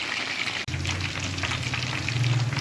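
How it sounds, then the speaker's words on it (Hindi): Pieces of chicken fry in oil over a medium-low flame with a steady, close crackling sizzle that swells slightly louder near the end, after a brief dip in the sound early on. "हम जो है इसे मीडियम टू लो फ्लेम पे फ्राई करेंगे"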